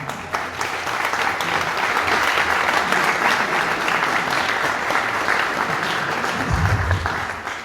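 A panel audience at a faith and science discussion gives a round of applause, steady dense clapping filling the room for several seconds with a low thump near the end.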